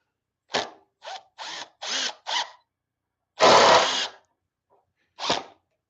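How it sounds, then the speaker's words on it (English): A power drill drives into wooden table legs for a CNC table, heard up close as five short whirring bursts followed by a longer sustained run and one final short burst. "Drill into these guys here."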